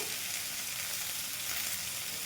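Potato and cauliflower pieces fry in a pan before powdered spices go in for a Katla fish curry, giving a dense, even sizzle that stays loud and close throughout with no talking.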